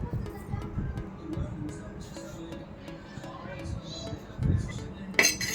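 A metal spoon scrapes and clinks against a bowl or jar while mango pickle is stirred after oil has been added, giving soft irregular taps and a sharper clink near the end.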